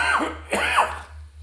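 A person coughing and clearing the throat twice in quick succession, close and fairly loud, followed by quiet.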